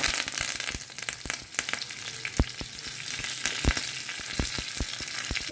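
Green chilies and curry leaves fry in hot oil with a loud, steady sizzle and crackle, and sharp taps and pops come at irregular moments.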